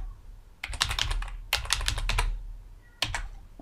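Rapid bursts of typing on a computer keyboard while filling in a custom form, keystrokes clattering close and clear in three separate runs with short pauses between them.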